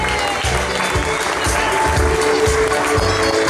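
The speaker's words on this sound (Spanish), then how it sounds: "Aplauso para nuestro U17." An audience applauds the U17 team of Club de Regatas Resistencia at its presentation, loud, close clapping with a rhythmic low thumping underneath, continuous throughout.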